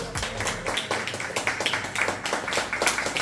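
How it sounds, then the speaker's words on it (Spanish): A church congregation clapping for the Lord, rhythmic, fairly loud hand claps repeating steadily in unison. "Dale un fuerte aplauso al Señor"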